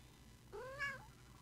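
A house cat gives a single short meow, rising then falling, close by and fairly clear over faint low background hum, with no talking.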